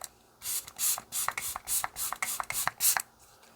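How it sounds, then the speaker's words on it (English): Rare Beauty Always an Optimist 4-in-1 setting mist sprayed in a rapid burst of about a dozen short, close, hissing pumps in quick rhythm. "I'm going to finish everything off with one more soaking of the Always an Optimist 4-in-1 Mist."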